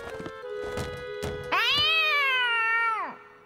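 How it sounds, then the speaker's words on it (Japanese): A mother cat meows in a children's cartoon about a midnight ghost scare with Tayo the Little Bus. A few soft thuds come first, then one long, loud, clear meow that bends down in pitch at its end. "あれは お母さん猫じゃないか。"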